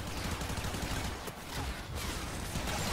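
Rapid automatic gunfire from a machine gun in the Warframe video game, a dense continuous stream of shots filling the whole stretch with a brief dip in the middle.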